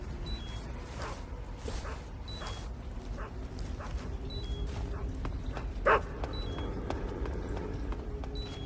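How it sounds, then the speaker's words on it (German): Dogs barking in Metal Gear Solid 3: Snake Eater, with scattered yips and barks heard fairly far off over a steady background of game ambience and footsteps. "Ich glaube, die Köter sind sowas von nahe."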